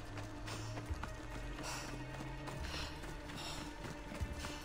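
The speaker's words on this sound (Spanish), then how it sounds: "ella pilló un caballo." A horse gallops in the video game Assassin's Creed Odyssey, its hooves clip-clopping in a quick steady rhythm under a low mechanical hum, faint and continuous.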